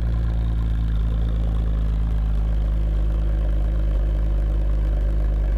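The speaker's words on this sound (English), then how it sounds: "Pretty throaty at idle." A Ford Explorer Sport with a Borla exhaust idles steadily and close by, a deep, even rumble holding one level throughout with no voices.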